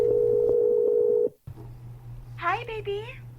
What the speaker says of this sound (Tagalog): Calling Hennessy.